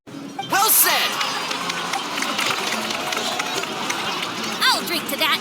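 A crowd applauding and cheering in Genshin Impact, with bursts of whoops and clapping layered over a busy, continuous roar of noise.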